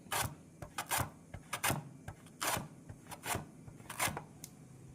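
Raw green banana with the peel still on, grated by hand into slices for crispy banana chips: repeated rasping strokes in an irregular rhythm, close and fairly quiet, with no talking.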